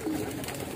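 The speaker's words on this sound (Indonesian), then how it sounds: "di sini merpatinya banyak sekali karena kandangnya ada" Pigeons coo softly in a racing-pigeon loft in Pekalongan, a brief low burble against steady background noise.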